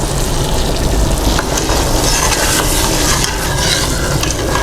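Sugar syrup heating in a pot for feeding bees gives off a steady loud hiss and sizzle as it is stirred, a continuous close rushing texture with no talk.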